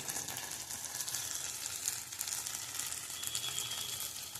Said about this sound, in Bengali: আর টমেটো দিয়ে দিয়েছি, দিয়ে এটাকে ভালো করে ভেজে নেব।